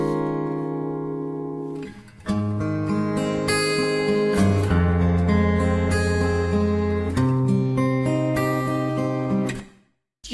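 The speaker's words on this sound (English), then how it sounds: "the guitar actually sounds really good" A guitar recorded in stereo plays a full, ringing chord passage with sustained notes and a brief pause, then fades out near the end.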